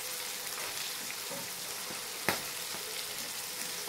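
Peas frying in a pan as chopped carrot, green chili and onion go in for a home-style Maggi noodle dish, a steady soft sizzle with one sharp clack partway through.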